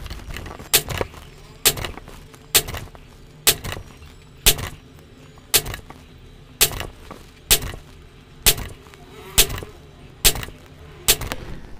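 A regulated Hatsan Nova Star RG air rifle fires a long series of sharp, close shots at a steady pace, about one shot every second, with faint handling noise between them.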